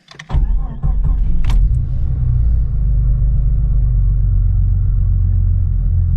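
A Jeep Cherokee XJ engine with freshly replaced coil packs cranks on a weak battery, catches after a few clicks and settles into a steady, low idle rumble close by, with no talking.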